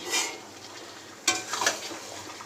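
Chicken with browned onions sizzles in a wok while a utensil scrapes and stirs, with a couple of louder stirring bursts over the steady frying.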